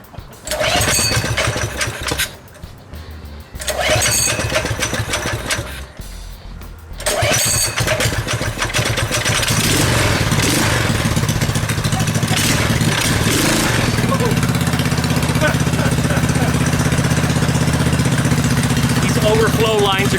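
A modified KT196 go-kart engine with a pull starter sputters through a couple of short tries, catches, and settles into a loud, steady, close idle, with a person talking over it.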